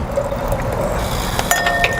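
Water or wine poured into a wine glass, a steady liquid stream with faint glassy ringing and a couple of light clinks, close and moderately loud, with no talking.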